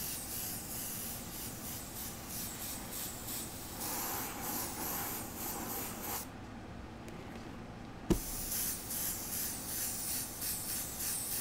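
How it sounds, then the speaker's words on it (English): An airbrush sprays paint onto Air Force 1 sneakers in soft, quiet hissing bursts that pulse with back-and-forth passes, pausing briefly before a small knock and resuming close by. "And then we can do an airbrush."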